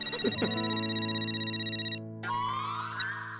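A telephone rings with a bright electronic ringtone that repeats in a quick pulsing pattern, breaks off briefly, then resumes with a shifted, sliding tone, fairly quiet and with no voices.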